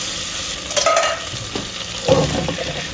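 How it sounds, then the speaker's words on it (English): Chickpeas tumble into a hot pan coated with seasoning and curry veggie paste and are stirred, giving a soft sizzle with scraping spoon strokes in two short bursts, close up and with no talking. "At this point, you're gonna add your chickpeas. Chickpeas are gonna pick up that seasoning at the bottom."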